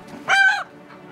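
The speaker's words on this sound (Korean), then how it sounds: "닭들을 가만히 바라보던 동열 씨의 눈빛이 매섭게 변하는 그 순간" A farm chicken lets out one loud, close cluck-squawk, with faint background clucking from other chickens before and after it.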